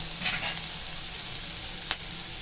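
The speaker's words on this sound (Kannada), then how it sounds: "ಫಿಶ್ಶಿನ ಮೊಟ್ಟೆನ ಹಾಕೋತಾ ಇದ್ದೀನಿ." Fish eggs go into a pan of browning onions, a steady close sizzle with a brief burst of crackle early on and a sharp clink of a utensil near the end.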